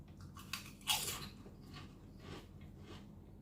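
A sharp crunchy bite into thin, light, salty slices, followed by quieter chewing crunches, close to the mouth and soft against a faint background hum.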